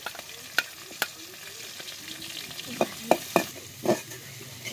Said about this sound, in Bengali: এখন চিংড়ি মাছের সাথে পেঁয়াজগুলো একটু কষিয়ে নেব।